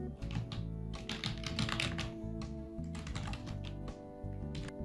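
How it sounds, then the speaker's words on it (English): Quick, steady keystrokes on a computer keyboard while entering a WordPress administrator name and password, a close run of clicks with a couple of brief pauses and a faint hum underneath. "Type in a WordPress administrator name and type a password."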